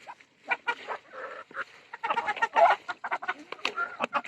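Chickens cluck and squawk on a rooftop in a rapid, irregular series of close, loud calls with no talk over them.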